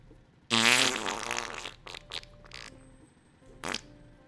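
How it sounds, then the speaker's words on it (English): A loud, sputtering fart noise blasts out as a sound effect triggered by a D20 roll, one long buzzy burst followed by a few shorter popping tails and a brief final puff. "which means you get a fart noise"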